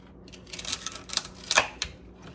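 Scissors snip through a piece of material in a quick series of short, crisp cutting clicks, close and fairly loud, with no talking.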